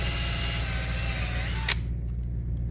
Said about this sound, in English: Just pre-drill it first.